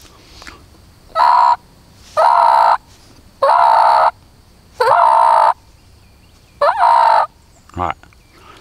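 Turkey mouth call blown in six short bursts, each a loud, raspy yelp-like tone a fraction of a second long, separated by brief pauses with quiet background between.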